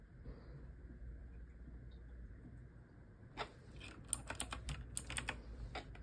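Typing on a computer keyboard, a quiet room at first, then a quick burst of light clicking keystrokes in the second half, close and fairly faint.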